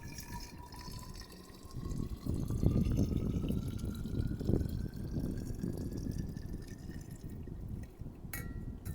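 Heated water for tea, in a pot at a high snowy mountain pass, gives a steady watery bubbling and simmering rumble close up, with a thin rising whistle-like tone over it and no talk.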